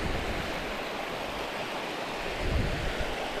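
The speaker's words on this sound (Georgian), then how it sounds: "უი წყალი." Flowing water rushes in a steady, even wash along an outdoor path, holding a constant level with a slight swell near the end and no voices.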